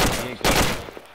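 Gunfire in the military shooter ArmA 2 with the ACE mod: a burst of loud shots, a sharp second volley partway through, then trailing echoes, with a voice briefly audible underneath.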